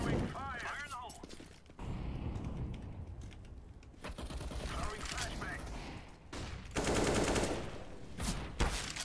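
Rapid gunfire from the CS:GO video game, dense bursts of automatic shots with sharp clicks, loud and sustained through the clip, with players talking over it.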